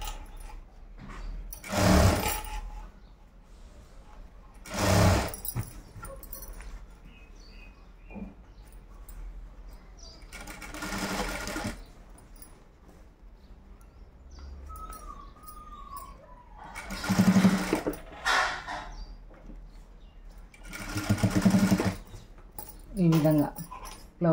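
A sewing machine runs in short stitching bursts through blouse fabric, with quiet gaps between runs while someone talks over it.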